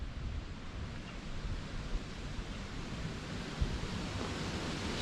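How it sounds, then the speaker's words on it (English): Steady wind blows at Hanging Rock, an outdoor Revolutionary War battle site, producing a continuous low, rushing roar with slight gusts across the whole stretch, no voices. "It's very windy today."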